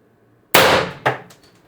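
An IntruBuster Gen 2 air gun fires a single sharp, loud report with a ringing clang, followed about half a second later by a second metallic impact that decays quickly into quiet.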